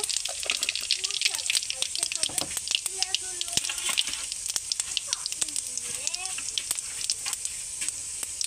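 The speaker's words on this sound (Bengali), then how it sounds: "এবার মাছ ভাজা তেলের মধ্যে আমি গোটা জিরা দিয়ে দেব।" Whole cumin seeds dropped into hot oil left from frying fish, for a fish curry with coriander leaves, giving a steady close crackling sizzle with sharp pops throughout, with a voice speaking over parts of it.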